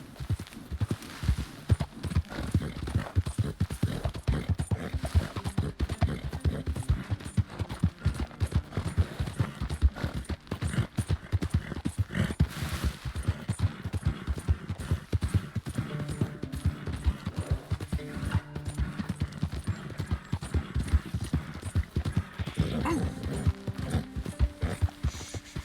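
Horse hooves clip-clop in a fast, steady rhythm for the whole stretch, loud and close, with faint mechanical clicks mixed in, in the video game Red Dead Redemption 2.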